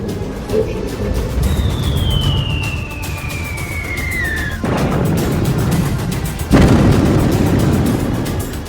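Missile strikes during an Iranian attack on Israel in news footage: a descending whistle-like streak ends in a heavy blast near mid-clip, followed by a second loud boom, both over a continuous rumbling background.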